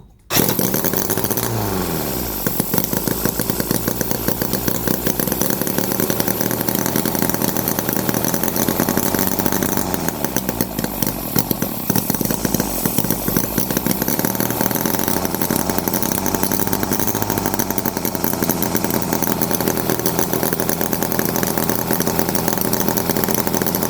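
A small Microcosm H75 model engine fires and runs continuously, a loud, rapid, buzzing chatter like a tiny two-stroke. It sounds close and steady for over twenty seconds after a sudden start.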